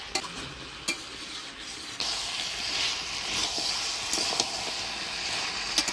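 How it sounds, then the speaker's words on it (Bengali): Winter vegetables and kalai lentil dumplings stirred in a pan, a steady sizzle with soft scraping and a few sharp clicks of the spoon against the pan, close by and with no talk. "ডালের বড়ি দিয়ে সবজির সাথে ভালো করে নাড়াচাড়া করে নিলাম"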